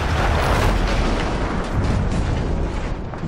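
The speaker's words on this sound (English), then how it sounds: "That explosion was one of the sweetest sights of the war for me." A massive explosion in the World War I video game Battlefield 1 fills the scene, a dense, loud, sustained rumbling blast that barely fades over a few seconds, with no voices over it.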